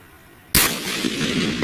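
A single 7mm magnum rifle shot fired at a whitetail buck during a hunt: one sharp, loud, close blast followed by a rolling outdoor echo.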